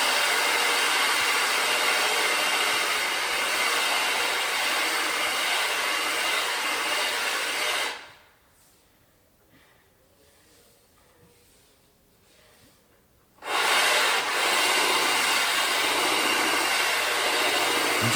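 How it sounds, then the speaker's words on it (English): Core drill with water cutting through tile in a bathroom shower area, a steady loud broadband grinding hiss that stops for several seconds of near quiet mid-way and then resumes just as loud. "just go a little bit in a circular motion with your drill"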